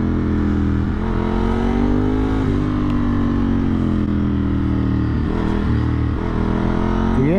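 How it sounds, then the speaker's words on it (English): A Ducati 996 motorcycle's engine drones loudly during a ride on a Saint-Tropez road trip, a steady throaty rumble with brief shifts and revs in pitch and constant wind rush, no talk. "The engine on this bike is so good, man."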